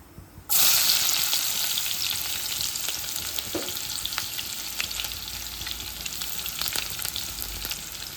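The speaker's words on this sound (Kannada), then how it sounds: "ಈಗ ಇಲ್ಲಿ ಫಸ್ಟಿಗೆ ಎಣ್ಣೆ ಹಾಕೊಂಡು ಜೀರಿಗೆ ಸಾಸಿವೆ ಹಾಕ್ಯಾರ." Cumin and mustard seeds hit hot oil with a sudden loud burst of sizzling that settles into a steady, dense crackle with scattered pops, close and alone with no voices.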